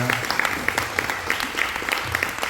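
Lively audience applause during a university talk, a continuous crackle of many people clapping at a steady moderate level, with a low murmur of voices underneath.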